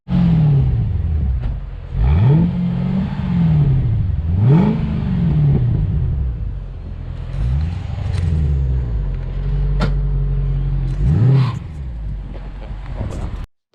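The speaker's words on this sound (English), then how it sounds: "we'll jump out of it and we'll give you some exhaust revs" A Mercedes-Benz C55 AMG exhaust revs repeatedly nearby, each blip climbing then falling back to a deep burbling idle, several sharp throttle stabs in a row.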